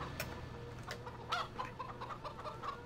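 Chickens cluck in Farming Simulator 2013 on the Idaho map: a steady run of close, fairly quiet clucks and short calls over a low farmyard hum, with no talking.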